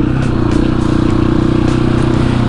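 A motorcycle engine cruises steadily in third gear, a loud, close, continuous low drone with a fine rhythmic pulse and no talking.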